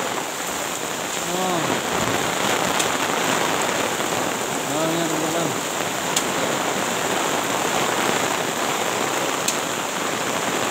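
Steady heavy rain pours across the whole stretch during the digging of a grave in the wet season, a dense, loud, even hiss with faint higher calls from a bird or animal briefly rising above it twice.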